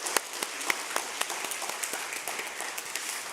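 Scattered hand clapping from a church congregation during a Korean Presbyterian Sunday service in Detroit, thin and moderately quiet with uneven individual claps and no talking.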